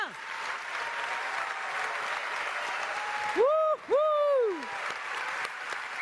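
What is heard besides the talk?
audience applause at award ceremony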